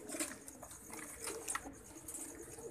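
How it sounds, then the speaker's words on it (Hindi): Flying pigeons in a breeding colony give soft, repeated coos. The calls are faint and overlapping, with light rustling and chatter around them. "ये उड़े हुए कबूतरों की कलोनियाँ हैं"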